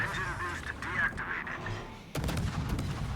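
Naval guns firing high-explosive shells in the warship battle game World of Warships, a couple of deep booming blasts at moderate volume, the last one sharp and loud with a rumbling tail.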